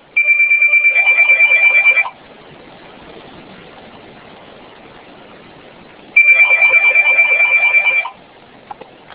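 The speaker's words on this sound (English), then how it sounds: "Sorry about the phone, guys." An electronic phone ringtone trills in two loud bursts of about two seconds each, separated by a quieter stretch of low room noise in a classroom.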